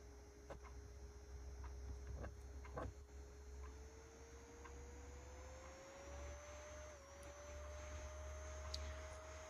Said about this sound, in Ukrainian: Вентилятор крутиться на малій швидкості.